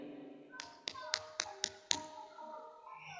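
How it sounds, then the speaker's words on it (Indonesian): An 80-year-old woman sitting beside a mosque pats her own face with her hands, six light, quick slaps in a row, quiet and close. "sambil dia tepukkan wajahnya begini"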